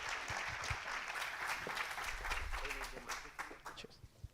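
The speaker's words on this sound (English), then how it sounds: "So now I guess it's time for a round of applause." An audience in a conference auditorium applauds after a presentation, sustained dense clapping that thins toward the end, with voices mixed in.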